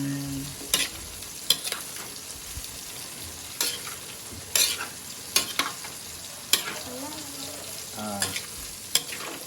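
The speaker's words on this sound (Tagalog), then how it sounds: "And let's cook egg." An egg fries in a pan at a food stall, with a continuous sizzle under a series of sharp scraping and stirring strokes at irregular intervals, close and moderately loud.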